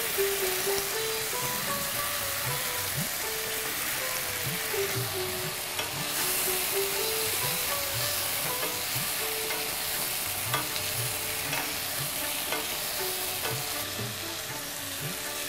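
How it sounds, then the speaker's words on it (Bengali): Nigella seeds and green chilli tempering in hot oil, then vegetables added for a Bengali bottle-gourd-leaf curry, giving a loud, steady frying sizzle with repeated stirring scrapes throughout and no talking. "কালো জিরে ফোড়ন, তার উপরে কাঁচা লঙ্কা দেওয়া হলো"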